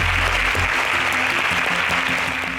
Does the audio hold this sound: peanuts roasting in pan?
no